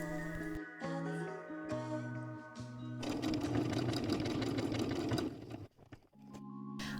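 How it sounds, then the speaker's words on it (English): A sewing machine stitches a buttonhole on a hoodie to make an opening for the cording. A steady, close mechanical whirr runs in short bursts with brief pauses and changes of pace. "now I make a buttonhole for the cording"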